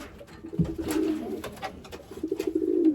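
Pigeons coo in soft, repeated low throbbing calls, a few birds close by, with brief flutters between the coos and no talking.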